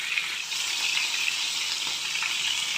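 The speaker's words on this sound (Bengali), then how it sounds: "একটু ভালো করে ভেজে আমি তুলে নিচ্ছি।" Pointed gourd (potol) frying in oil in a pan, a steady, close hiss of sizzling that holds unbroken throughout, with no voices.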